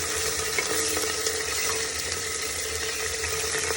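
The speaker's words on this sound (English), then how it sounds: "I'll just put a little bit of curry leaves in the pan" Curry leaves hitting hot ghee and coconut oil in a pan, crackling in a loud, steady, close sizzle that holds without pause, with no voice over it.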